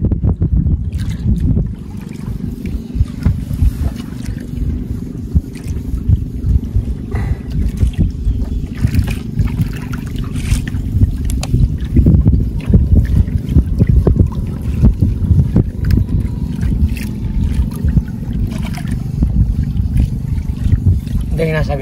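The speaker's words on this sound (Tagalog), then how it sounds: "Bugso yung hangin." Gusty wind buffets a small fishing boat out at sea, a heavy continuous low roar of wind noise battering the microphone, with water trickling and occasional knocks underneath throughout.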